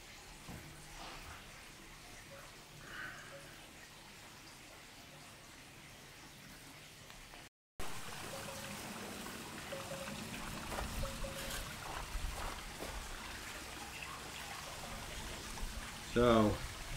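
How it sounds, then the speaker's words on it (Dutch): Water trickles and splashes steadily into a 9-cubic-metre pond quarantine basin, growing louder after a brief gap, with outdoor background noise throughout. "En het eerste water zit erin."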